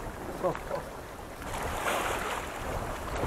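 Steady wind rushing past a sailboat, with waves washing and sloshing against the hull, a broad continuous noise that swells slightly partway through.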